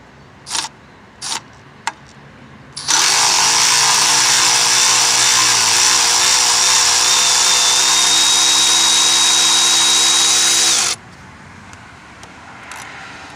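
A 14mm socket on a power tool spins out the idler pulley bolt on a 1993–98 Jeep Grand Cherokee: a loud, steady whirring rattle of about eight seconds, preceded by a few brief clanks of metal.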